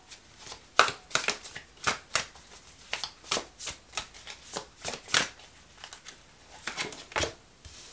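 Tarot cards being drawn and shuffled by hand: a rapid run of crisp papery slaps and riffles, close and fairly loud, repeating steadily with brief pauses and no talking.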